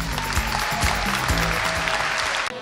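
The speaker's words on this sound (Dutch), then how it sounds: "ik zou graag op het begin een geweldig applaus voor dit kereltje willen hebben" Steady applause from an audience, loud and continuous for a couple of seconds, with a low rhythmic musical beat running underneath.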